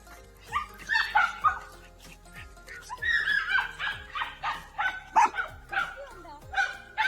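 Two dogs at a home in Kerala bark and yip in quick, repeated bursts, some whimpering between them, close and fairly loud, with people talking underneath.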